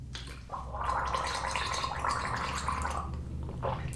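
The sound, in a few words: voice imitating a gargle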